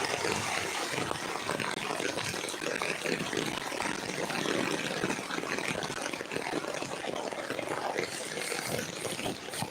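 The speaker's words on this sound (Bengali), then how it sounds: "শিলচরে এই মুহূর্তে প্রচুর বৃষ্টি হচ্ছে" Heavy evening rain falls at Annapurna Ghat on the Barak River in Silchar, a dense, steady roar of water that fills the whole stretch without pause, close and loud, with no voices.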